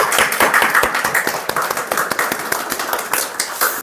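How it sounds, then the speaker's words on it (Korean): Church congregation applauding during a year-end Sunday worship service, dense fast rhythmic clapping from many hands, loud and close, continuing throughout without talk. "우리 박수로 하나님 앞에 한번 영광 올려드리겠습니다"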